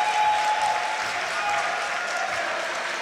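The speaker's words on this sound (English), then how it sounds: "The crowd is cheering for him." A crowd at a Yu-Gi-Oh! championship final in Milan applauds, giving a dense, steady wash of clapping that stays loud and even throughout.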